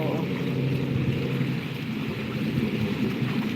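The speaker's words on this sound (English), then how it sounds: "this is where you come to hear the little city waterfall" A small city waterfall by a river rushes as a steady, dense broadband roar, loud and unbroken throughout, with no talk over it.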